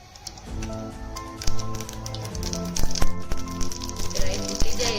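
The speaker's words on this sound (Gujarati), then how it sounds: "એમાં આપણે રાઈ નાખીશું" Mustard seeds pop and crackle in hot oil, a dense run of sharp snapping bursts that quickens and grows louder toward the end, heard close up over a steady background hum.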